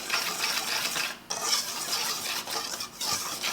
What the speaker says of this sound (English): I'm going to whisk the flour, the baking powder, and the salt just so it's evenly distributed in the pan.